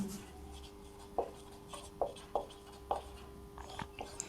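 Chalk or marker strokes on a board during a class 12 maths lesson, a series of short scratchy taps and squeaks spaced about half a second apart, faint over a steady low hum.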